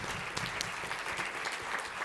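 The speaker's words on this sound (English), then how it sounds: "Can we get a round of applause for that?" Audience at a Brockton Public Schools conference applauding: an even, continuous wash of many hands clapping, fairly soft and heard from a distance.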